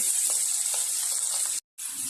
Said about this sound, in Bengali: এখন আমরা চিংড়ি মাছটা ভেজে নিচ্ছি।